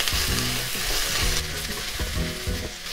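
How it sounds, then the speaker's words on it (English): Onions, ginger and garlic fry in a pan for Japanese curry, a loud close sizzle broken by repeated scraping strokes of a utensil stirring the pan. "Once it got a little bit roasted, I'm going to put in all the onions right in here."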